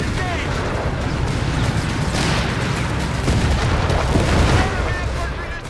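Artillery guns firing with explosions in the North African campaign of the Company of Heroes 3 video game, a dense continuous barrage of booms and blasts under loud battle noise, with voices shouting over it.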